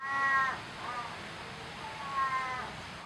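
A manul, or Pallas's cat, gives two drawn-out, listless, moaning cries a couple of seconds apart, faint and hoarse over a soft background hiss.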